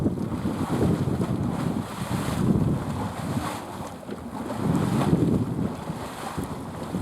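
Hot water in a Yellowstone hot spring churns and gurgles continuously, swelling and easing in slow surges, mixed with wind buffeting the microphone; no one speaks.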